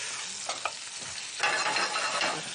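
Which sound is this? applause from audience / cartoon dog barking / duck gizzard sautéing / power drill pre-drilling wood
duck gizzard sautéing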